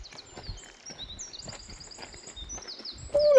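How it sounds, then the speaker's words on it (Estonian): Birds sing along a mountain trail in Poland's Tatra range near Zakopane, thin high chirps and warbles repeating over quiet footsteps, with a louder call near the end. "Kuulake, kuidas linnud laulavad,"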